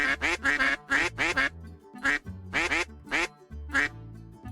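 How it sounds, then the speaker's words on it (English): A duck quacks loudly and close by, in quick bursts of two or three calls separated by short pauses. "At that quack, she turned to the duck on her arm."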